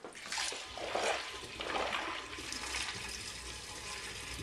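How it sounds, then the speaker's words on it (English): Homebrew wort poured into a glass carboy already holding tap water, a continuous splashing, gurgling stream of liquid with faint surges, quiet and close, with no talking. "Next, we're gonna move our wort into our carboy."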